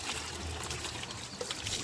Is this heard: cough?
no